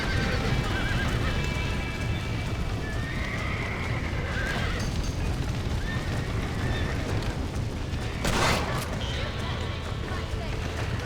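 In the video game Red Dead Redemption, several horses neigh repeatedly while hooves clip-clop steadily, amid a rumbling, chaotic background and raised voices.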